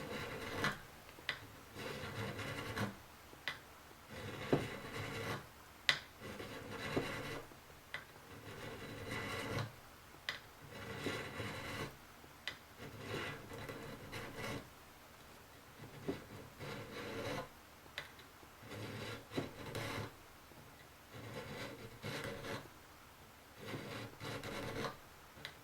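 A file rasps back and forth across a guitar fret being crowned, producing repeated short scraping strokes in an uneven rhythm over about twenty-five seconds, close and fairly quiet, with no speech.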